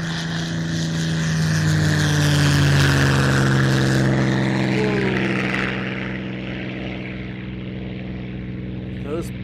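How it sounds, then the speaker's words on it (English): A 1940 propeller aeroplane in tip-top condition drones past, its engine swelling loud and then fading away over several seconds, with a person speaking briefly over it. "Wow. 1940, 80 years old, those aeroplanes."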